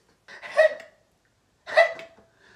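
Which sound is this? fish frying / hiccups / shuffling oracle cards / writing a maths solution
hiccups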